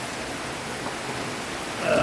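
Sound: rain falling at a farm

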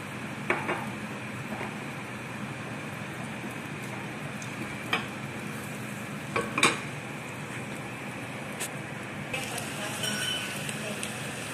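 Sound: potatoes frying and sizzling in oil in a pan

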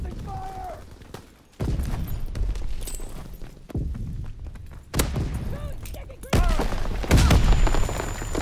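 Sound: suppressing gunfire in a WW2 video game

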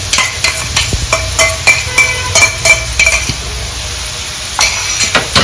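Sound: sautéing crushed ginger and garlic in a pan

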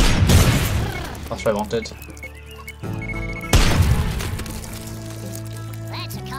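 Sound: airstrike explosions in the video game Worms Revolution

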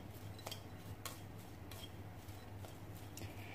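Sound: mixing ginger and papaya with salt and sugar

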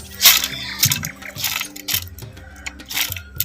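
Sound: a little water poured into mixer jar

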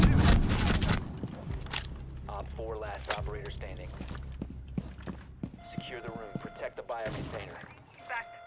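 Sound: gunfire in a video game

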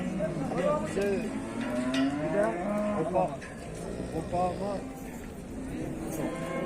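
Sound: cattle mooing at a livestock market

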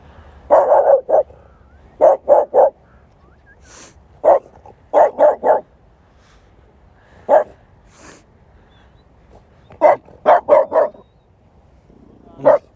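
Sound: small French bulldog barking

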